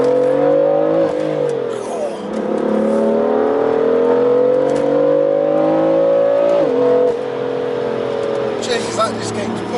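A BMW F80 M3 engine with a modified exhaust revs hard and climbs steadily in pitch, loud and close, with a gear shift partway through and a brief voice underneath.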